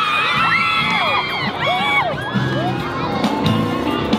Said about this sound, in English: Loads of people are cheering and we're not sure at who.